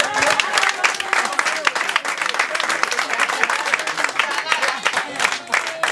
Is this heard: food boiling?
no